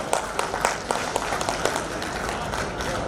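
An audience at a comedy show at a golden jubilee festival breaks into applause, a dense patter of clapping held steady for a few seconds with murmuring voices mixed in.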